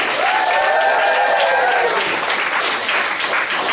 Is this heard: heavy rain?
no